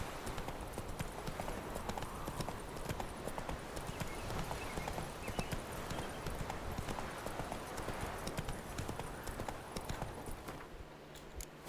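Hooves of the horse Roach in The Witcher 3 clip-clop in a steady trotting rhythm, fairly quiet and continuous, with a brief whinny-like sound and faint background game ambience.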